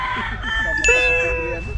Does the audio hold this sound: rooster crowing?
yes